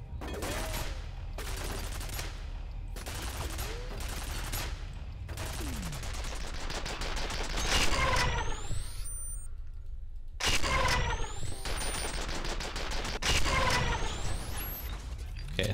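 Bursts of rapid gunfire from the F.E.A.R. shooter game crackle in several clusters, with short pauses between volleys and game effects mixed in.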